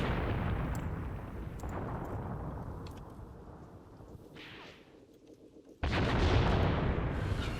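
Artillery guns firing in Graviteam Tactics: heavy booming blasts with rumbling decay, several reports spread across the stretch, then a sudden loud close shot near the end.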